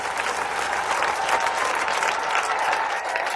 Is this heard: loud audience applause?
yes